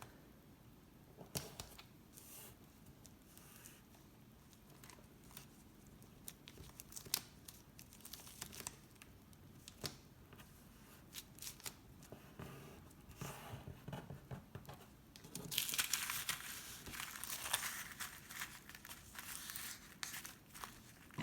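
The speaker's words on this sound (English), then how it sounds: "I'm just going to seal the shaker card up and just fold over the washi tape" Crinkling and tapping from folding washi tape over to seal a handmade shaker card. Close, quiet paper rustles and small taps come in irregular bursts, with a brief louder crackle of handling near the end.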